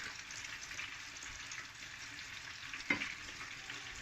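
Onions fry in olive oil in a pan for Portuguese codfish, a faint, steady sizzle with one brief clink partway through.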